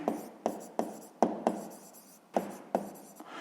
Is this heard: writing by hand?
yes